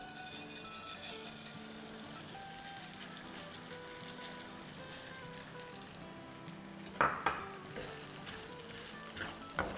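Edible gum (gond) frying in a pan for ladoo, a steady crackling sizzle with intermittent pops and a brief louder burst, moderately faint and continuous.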